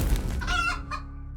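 A chicken in the dungeon-crawler video game Echoes of Magnus gives a short burst of close, loud clucking over a low background hum, with no talking.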